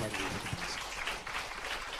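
A church congregation at a special revival service applauds in thanks, a soft, diffuse clapping from many people held steady and faint beneath a speaker's voice.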